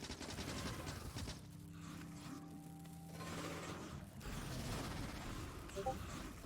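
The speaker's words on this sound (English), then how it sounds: "I'm just like spamming grenades out" Grenades exploding in the Factorio video game, a dense rapid barrage of bursts and crackling blasts running without letup, loud and close with no voices.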